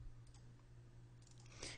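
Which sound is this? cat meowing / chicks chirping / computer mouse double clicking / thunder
computer mouse double clicking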